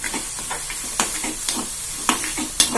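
Chopped tomatoes sautéing in a pan for a yogurt pachadi, with steady soft sizzling and repeated scraping stir strokes roughly every half second, close and moderately loud, with no talking.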